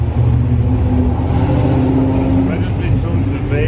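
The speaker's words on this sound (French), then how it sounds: "Il vient de faire un drift énorme" A Porsche 911 GT3 engine roars and revs steadily up close after a drift, a heavy continuous drone with talk over it.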